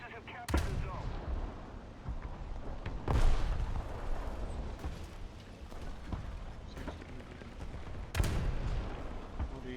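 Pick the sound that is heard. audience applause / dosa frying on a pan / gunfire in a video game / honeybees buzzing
gunfire in a video game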